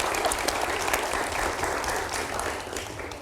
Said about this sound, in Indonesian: kita berikan tepuk tangan untuk Prof.